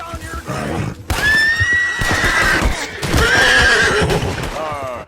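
An Ardennes horse in Red Dead Redemption 2 gives two loud, close, drawn-out whinnies with hooves clopping beneath, while people talk over and between the neighs.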